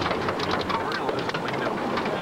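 Heavy rain pours steadily during a storm over Edmonton that brought significant rainfall and golf ball-sized hail, a dense, continuous wash of loud rain noise with no pauses.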